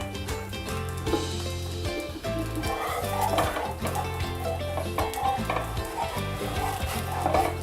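An egg paratha fries in oil in a pan, giving a steady close sizzle with occasional stirring and scraping sounds, loud and continuous, with no talking.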